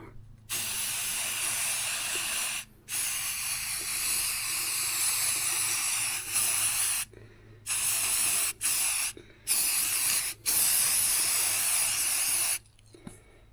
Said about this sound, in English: Let's give this a spray